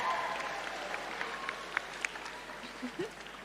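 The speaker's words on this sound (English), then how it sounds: "Round of applause for Rachel Fink." Audience applause at a Jewish community youth volunteering celebration for head teacher Rachel Fink, a fairly soft, steady patter of clapping from a crowd, with some voices and a few brief sounds near the end.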